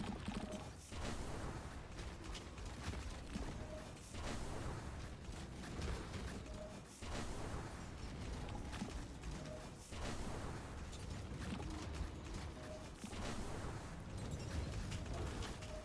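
Grenade launcher rounds exploding in the zombie survival game FatalZone: dense, continuous bursts of blasts and crackling debris, loud and chaotic, with short dips between volleys.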